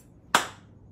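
A single sharp hand clap, close and clean in a quiet room, with a short decaying tail.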